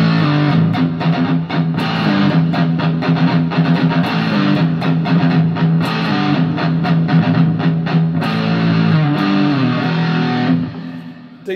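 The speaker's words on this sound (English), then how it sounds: "Decent enough metal sound." Heavily distorted electric guitar chugs through a Joyo DC-15 budget amp with high gain in a loud, tight metal rhythm, sustained chords and palm-muted bursts, ending in a brief ringing pause.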